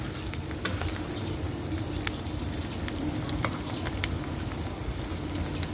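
Shallots frying in oil until crisp and golden, a steady dense crackle with scattered sharp pops running throughout, close and fairly loud with no voices.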